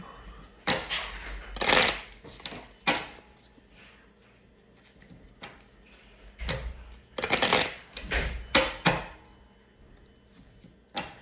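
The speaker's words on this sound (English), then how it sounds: "Just give the cards a couple of shuffles here" Tarot cards are shuffled in several quick papery bursts, close up, with brief pauses between each shuffle.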